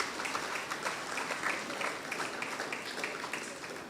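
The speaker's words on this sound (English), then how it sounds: "Please give them a big round of applause." An audience at an art collection handover ceremony applauds, a dense, steady patter of many hands clapping at moderate distance for the whole stretch.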